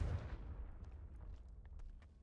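A Confringo fire spell in Hogwarts Legacy bursts with a single heavy, booming blast at the start, then rumbles and decays over the next two seconds.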